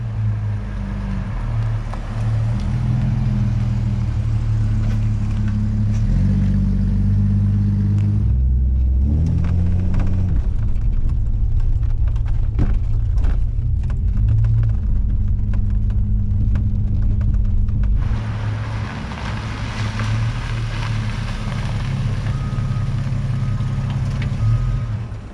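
A 1982 Ford Falcon XD with a 4.1 litre engine rumbles steadily as it drives into a backyard, a low continuous drone that dips briefly in the middle before settling again.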